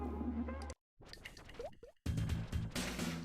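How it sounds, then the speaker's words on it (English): Wet plopping drips in a cavern from the video game Hypnospace Outlaw, short liquid plops with pitch sweeps scattered over a musical background that cuts out briefly, near and fairly clear. "Do you hear that plop, plop, plop?"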